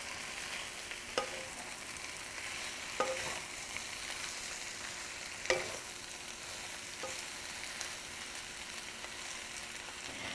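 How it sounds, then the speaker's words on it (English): General Tso chicken stir-fry sizzles steadily in a very full wok, a soft continuous frying hiss broken by a few sharp clicks of stirring spaced a couple of seconds apart, with no talking. "While the stir fry is continuing to cook"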